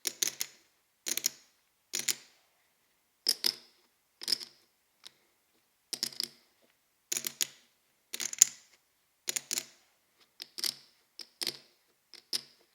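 Monaco Millions clay poker chips clacking as they are riffled and dropped together, sharp crisp clicks in irregular bursts separated by brief silences, close and with no talking.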